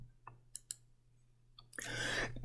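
Faint, separate clicks of a computer mouse come at a quiet desk, a few in quick succession. A louder burst of rustling or hiss follows at the end.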